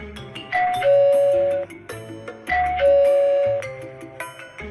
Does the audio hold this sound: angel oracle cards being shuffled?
no